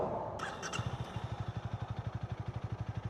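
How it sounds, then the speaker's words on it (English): A Honda Rebel motorcycle being started, a short clatter and crank followed by a close, steady rapid idle thump that pulses evenly, with no talking. "now when I turn on the bike, this is what I get"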